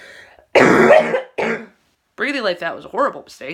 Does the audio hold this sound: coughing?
yes